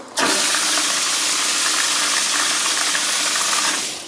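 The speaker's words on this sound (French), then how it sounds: "on voit que lorsque j'ouvre la vanne ça gicle de partout" Water under cold-water mains pressure spraying out of a leaking manhole flange on a 500-liter hot water tank as a valve opens, a sudden steady loud hiss and gush that holds for several seconds and then tapers off.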